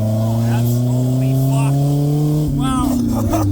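A Toyota AE86 with a swapped-in Honda K24 engine revs loud and close while driving, its steady harmonic drone climbing in pitch before a sharp shift, with excited voices talking over it.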